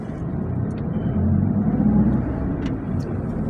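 Volvo truck tractor head engine rumbles steadily at close range, a deep continuous drone with slight swells and no talk.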